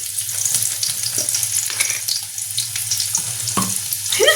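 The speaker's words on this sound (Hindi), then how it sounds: "तो इसीलिए अब बस जीरा फटाफट से तेल हो चुका है, अब मैं डाल रही हूँ लहसुन" Garlic dropped into hot oil with cumin seeds, a steady close sizzle of frying with occasional clinks and scrapes, a brief louder hiss near the end as more goes into the pan.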